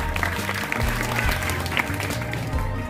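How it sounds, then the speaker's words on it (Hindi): Applause from an audience at a school function, steady clapping filling the hall, with low musical or rumbling tones underneath and no clear speech. "इसलिए बधाई के पात्र हैं, आप तालियां बजाइए।"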